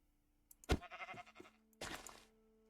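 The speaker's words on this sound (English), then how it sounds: "Stupid sheep." Minecraft sheep bleats, a couple of short wavering baa calls separated by a pause, clear and close against a quiet background.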